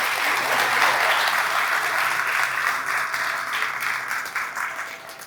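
A crowd applauds steadily for a young TEDx speaker at NIT Kurukshetra, a dense wash of clapping that holds strong and then begins to fade toward the end.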